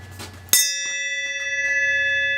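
A single bright strike of a tolling bell rings out loud and close, then sustains with a long shimmering decay that fills the rest of the moment.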